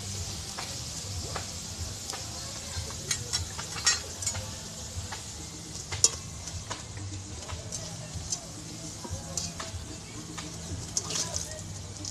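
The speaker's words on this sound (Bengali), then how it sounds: "পকোড়াগুলো আমার প্রায় হয়ে গেছে, এবারে আমি নামিয়ে নেব।" Pointed gourd pakoras frying in hot oil, a steady close bubbling sizzle with scattered sharp pops and ticks throughout.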